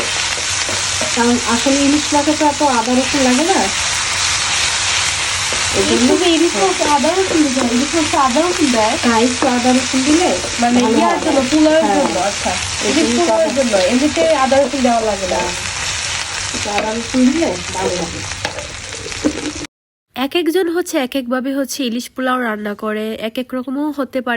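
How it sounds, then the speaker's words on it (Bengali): Fried onion with ginger and garlic being stirred in a pan for hilsa pulao, a loud continuous sizzle with scraping strokes, while someone talks over it almost throughout. "আর একটু আদা রসুন একসাথে মিক্স করা"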